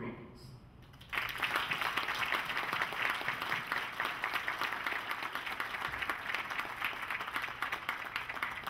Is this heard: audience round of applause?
yes